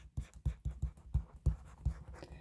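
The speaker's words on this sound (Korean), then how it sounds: "자, 써볼게요." A Korean teacher writes on a board during an English grammar lesson, a run of rhythmic tapping and scratching strokes, close and fairly loud, with short pauses between marks.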